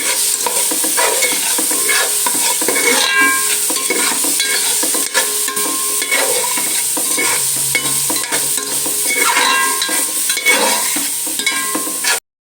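Masala sautés in a pan with a loud, dense sizzle and repeated scraping stirs of a spoon, close and continuous with no talking.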